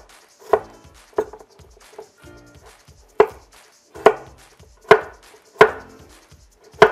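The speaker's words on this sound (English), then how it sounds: "So I'm just slicing them up, not too thin, but not too thick either." A knife chops through cucumbers on a cutting board for fire and ice pickles, sharp distinct thuds landing in a loose, steady rhythm, close and clear with no talking.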